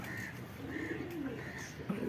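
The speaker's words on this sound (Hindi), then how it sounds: "वो देखे दोस्तों कबूतर बैठा हुआ है वो टेंकी के ऊपर" Pigeon cooing in a zoo enclosure, soft low repeated coos in a steady rhythm, fairly close, over a constant background hum.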